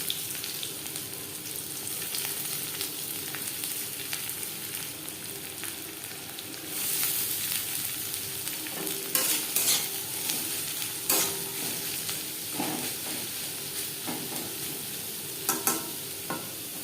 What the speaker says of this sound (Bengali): আমি রান্নাটা সর্ষার তেলে করছি আপনারা চাইলে রিফাইন্ড করতে পারেন তেজপাতা ভেজে নেওয়ার পর দিয়ে দেবো পেঁয়াজ কুচি